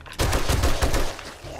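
Rapid bursts of gunfire from the video game 7 Days to Die, several loud close shots in quick succession with a steady noisy tail between them.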